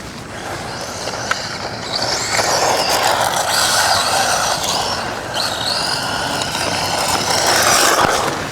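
A Traxxas Mini Slash 4x4 RC car drives on wet ground, its small electric motor giving a whining, whirring buzz that rises and holds fairly close for several seconds, with some rough grinding texture underneath.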